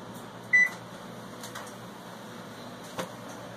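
Oven being set to preheat to 350: a single short electronic beep near the start, a faint click later, over quiet room hum, no talking.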